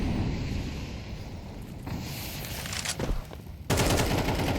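Gunfire in a Counter-Strike match from ESEA playoffs plays as loud, dense rapid-fire bursts, with a louder, heavier burst near the end.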